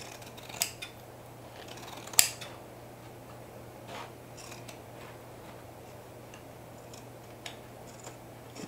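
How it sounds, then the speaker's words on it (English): Scissors snip through fabric while a bucket hat is sewn, giving a few sparse, quiet cuts over a steady low hum with no talking. "Snipping."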